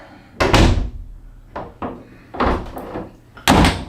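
A newly hung interior closet door in a home addition is swung and closed several times, giving sharp wooden thuds and a bump close by, with no talking.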